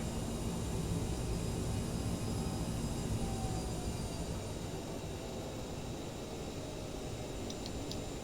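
Steady, loud engine roar of a CRJ900 jet airliner on its takeoff run in a flight simulator, a broad constant rumble with a thin high whine, unbroken throughout and with no talk.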